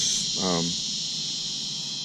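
A loud, continuous high-pitched insect drone fills the background while a voice speaks briefly over it.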